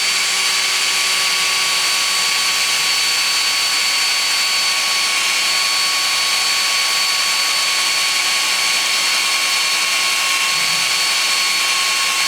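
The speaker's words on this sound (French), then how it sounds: "on va faire un trou à l'aide de la ponceuse" A sander bores a hole into tree wood, giving a steady, loud whirring drone with a constant high whine that runs unbroken and alone throughout.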